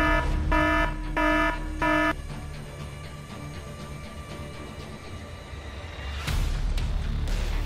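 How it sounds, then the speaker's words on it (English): A buzzer alarm on an Arduino security circuit set off by a PIR motion sensor sounds four loud, even electronic beeps in a row, then falls silent against a background hum. "if someone walks in front of a PIR sensor, a buzzer will go on"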